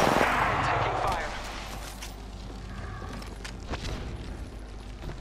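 Gunfire in a ranked match of the video game Apex Legends: a loud burst of game shots and booms up front, then quieter scattered shots and clatter continuing in the background.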